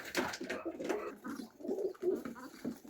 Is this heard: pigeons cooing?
yes